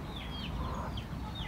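Chickens on a rainy farm cluck and murmur softly at a moderate distance, a few short calls rising over steady broadband background noise with no one talking.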